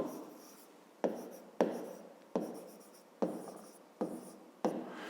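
Hand writing on paper during a math exercise, seven regular pen strokes each starting with a sharp scratch and tapering off, close-up and soft with no voices.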